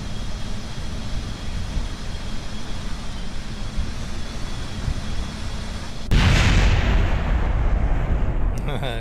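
A rocket blows up in Kerbal Space Program, a sudden loud blast bursting out of a steady rumbling engine roar and leaving a dense, sustained crackling roar afterward.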